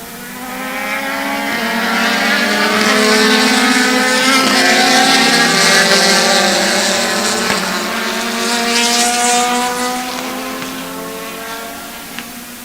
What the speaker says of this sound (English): Those are some loud race cars, man